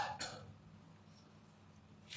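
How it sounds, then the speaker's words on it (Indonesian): A man gives a single sharp cough near the start, then another brief throat sound at the end, with quiet room tone in between. "tadi barusan batuk"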